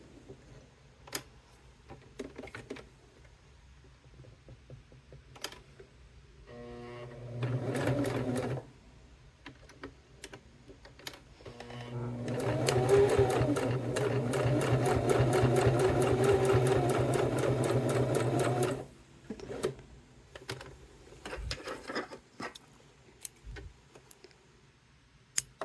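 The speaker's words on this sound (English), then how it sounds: "what we're going to do next is just top stitch our side extension down to our pocket" A sewing machine top stitches a cork wallet's side extension onto its pocket, with scattered clicks and handling taps around a short run and then a longer, steady, close stitching burst before it stops.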